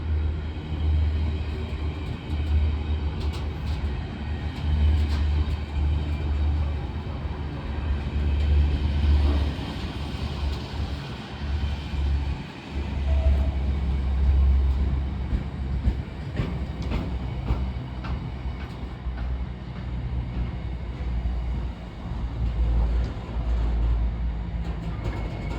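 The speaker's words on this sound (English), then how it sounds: "Oh no, it's another freight actually." A DB Cargo Class 66 diesel freight train passes on the West Coast Main Line, a sustained low engine drone and rolling wagon rumble rising and holding close by throughout, with faint rail clatter.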